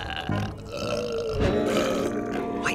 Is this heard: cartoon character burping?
yes